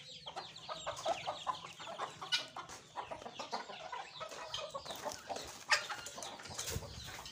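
Aseel rooster clucking and squawking in agitation while being caught in a village yard, with repeated sharp calls and bursts of wing flapping, fairly close, continuing for several seconds without talk.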